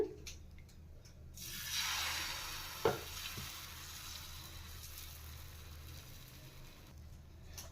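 Wheat dosa batter hits a hot tawa after a quiet start and breaks into a steady, close sizzle that continues to the end, with a single sharp clink partway through.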